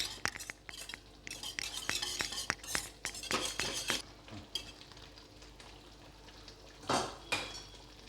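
Cooked lentils being mashed in a metal pot for a traditional Brahmin-style Thani Kootu: close, uneven scraping and clinking strokes in bursts, with short pauses and a louder scrape near the end. No one speaks.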